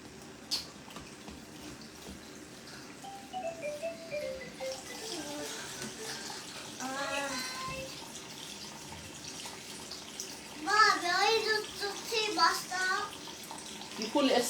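Tap water runs over a lobster being rinsed, a soft, steady splashing with bursts of stronger flow, heard close and under intermittent talking.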